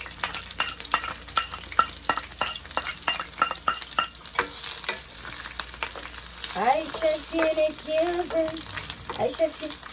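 Onions fry in oil in a pan for Jamaican rice and peas with salt fish: a loud, close sizzle carries a run of sharp stirring clicks, with a voice briefly speaking over it in the second half.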